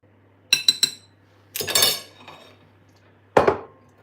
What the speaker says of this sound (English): Just going to stir so all the ingredients just end up being in one place.